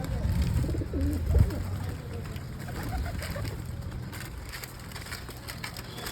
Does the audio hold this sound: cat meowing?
no